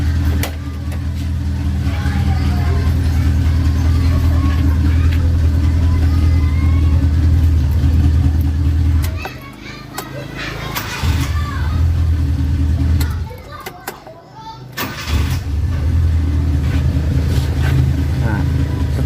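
A Suzuki Katana car's engine, just after a points adjustment, runs with a steady low rumble that dips briefly twice, while people talk over it.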